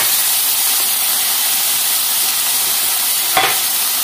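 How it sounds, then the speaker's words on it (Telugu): Tomatoes and mint sizzle in a pan with softened onions, a loud, close, continuous frying hiss that holds steady throughout, with one brief clack of a utensil near the end. "ఇప్పుడు మనం దీంట్లో టమాటాలు పుదీనా అండి వేసేసుకుందాం"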